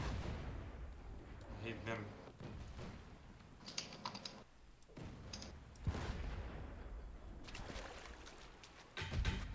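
Ship cannon fire in the video game Blazing Sails, several heavy booming shots spread across the stretch, mixed with keyboard typing and players talking.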